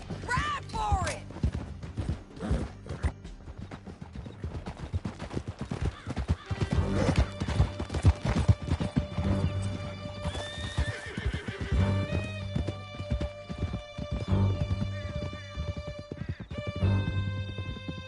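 Several horses gallop hard in the video game Red Dead Redemption 2, their hooves pounding steadily, with loud neighs and whinnies, crashes and a dramatic musical score layered over the ride, and voices talking partway through.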